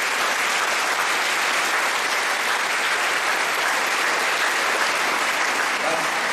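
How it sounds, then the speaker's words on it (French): Catholic congregation applauding at a gathering in Chaumont, a loud, sustained, dense roar of clapping from a large crowd filling the whole stretch without pause. "Let's give an applause to the Lord."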